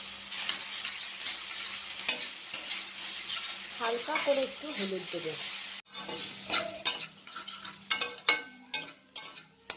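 Cumin seeds and spices fry in oil in a pan for spicy semolina, with a steady sizzle and occasional scraping of a stirring spoon. Someone talks over the cooking, and sharper clinks and knocks come near the end.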